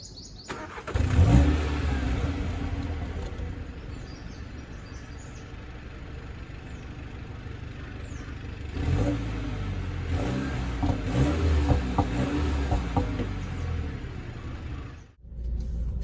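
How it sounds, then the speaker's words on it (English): Mini Cooper S Countryman JCW engine revving on its own, a burst near the start then a steady rumbling idle and a second run of blips in the middle, close and fairly loud with no talk. "before we go for a spin on the car, let's check out how it sounds."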